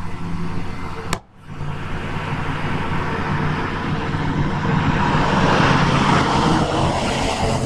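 A vehicle passes by outside, a rising broadband rush of engine and road noise that swells steadily over several seconds, heard from an indoor spot after a brief sharp click.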